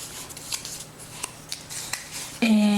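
Scissors snip through paper to cut hinges for a flip-flap craft project: a few crisp, quiet cuts at close range, ending in a louder, sustained rasp of the blades.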